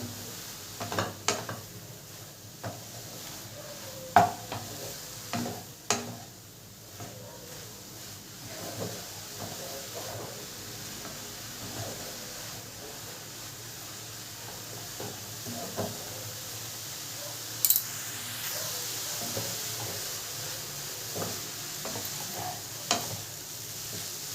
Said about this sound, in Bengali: এইভাবে ভাজতে থাকবো যতক্ষণ না জলটা না শুকিয়ে যায়।